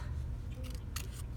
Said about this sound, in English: I am going to cut out another lily pad.